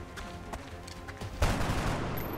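Gunshots in the video game XCOM Long War, with a few scattered sharp cracks followed by a loud, heavier burst of fire that rings out and decays.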